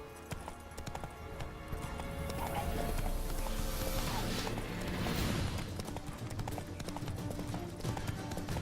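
Hooves of Roach, the horse in The Witcher 3: Wild Hunt, clopping in a steady galloping rhythm throughout, dense and continuous against a full background of game ambience and music, with no talking.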